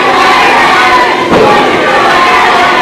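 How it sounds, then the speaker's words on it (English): Wrestling crowd at a GCW show in Greenwood, Arkansas, a dense, steady roar of cheering and shouting that fills the hall at close range, with a brief swell partway through. "Crowd here in Greenwood, Arkansas, showing their love for USJ."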